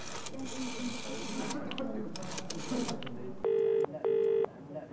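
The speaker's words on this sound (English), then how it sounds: "I dialed the number." Two clear electronic keypad beeps from dialing a telephone number sound near the end, following a stretch of muffled background noise and indistinct voices.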